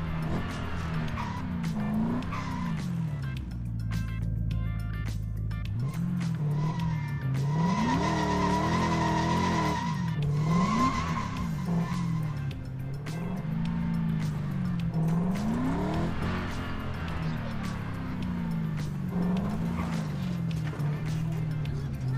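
A LEGO car drifts in LEGO 2K Drive, its engine droning as tires squeal in long, repeated looping slides, loud and close, with occasional speech over it.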